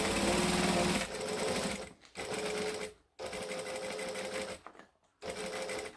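Sewing machine stitching along the piping of a boom box airliner cabin bag, running in several quick bursts separated by brief pauses, close and steady.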